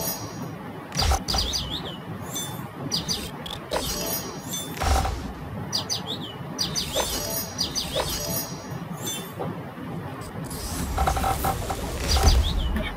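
Bright chirps and tweets of cartoon birds in the Farmscapes match-puzzle game sound in quick repeated bursts, with glassy clinks and sparkly chimes between them and a busy game soundtrack underneath.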